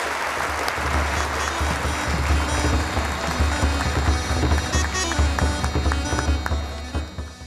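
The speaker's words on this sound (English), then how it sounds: "Another round of applause please for numbers 235 to 240." Applause from a gala audience at a swimming awards evening, a dense, steady wash of many hands clapping that continues throughout, with a low rumble underneath.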